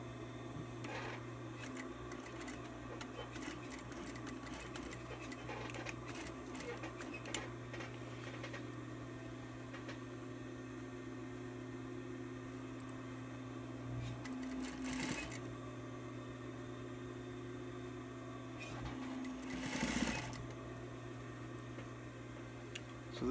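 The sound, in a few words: sewing machine stitching fabric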